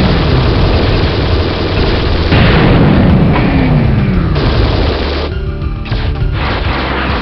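A munitions factory blows up in the hovercraft combat game Hellbender, a sustained loud rumbling roar of explosions and heavy low engine drone that continues for several seconds, no voices.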